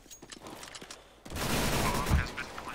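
Gunfire in a Counter-Strike tournament match: after a quieter stretch, a dense, sustained burst of shots and impacts kicks in and holds loud for over a second, with faint crowd and room noise beforehand.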